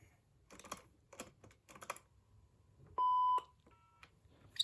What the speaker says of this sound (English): start dialing the phone number